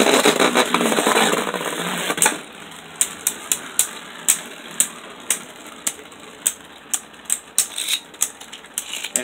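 Beyblade Burst Evolution tops battling in a stadium, a loud whirring launch rush followed by a rapid series of sharp plastic clicks and collisions as they spin against each other.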